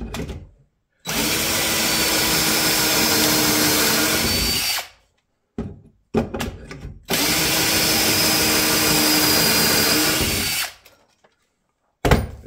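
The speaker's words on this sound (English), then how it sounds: "I'm going to drill a couple holes, show you what they look like" A power drill drilling pocket holes in wood whines loudly in two long bursts of several seconds each, with short pauses and brief handling clicks between them.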